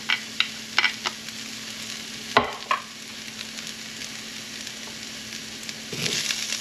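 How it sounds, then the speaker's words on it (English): Onions and garlic frying in a pan give a steady, quiet sizzle, broken by several sharp clinks and scrapes of a utensil stirring, with a brief louder burst of sizzling at the end. "Onions are working nicely. Get some garlic in there."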